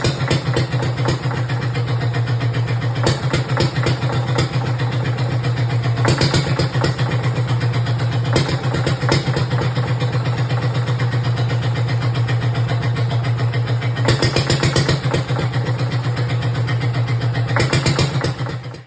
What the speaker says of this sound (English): So that's the engine running